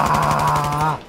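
A rapid full-auto burst of gunfire from a video game, its closely spaced shots rattling steadily for about a second before cutting off, loud and close with no talking.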